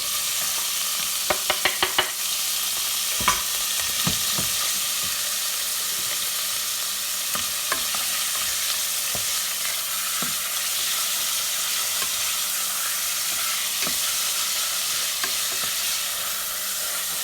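Small chopped pieces tossed into a hot pot while cooking arroz con gandules: a few sharp clatters at the start, then a steady close hiss and sizzle with occasional spoon knocks, no voices.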